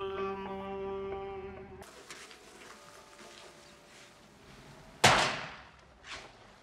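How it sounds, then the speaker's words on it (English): A single sharp, loud bang cuts through quiet room tone after a sustained tonal hum fades, followed by a softer thud a second later. "What was that, a gunshot?"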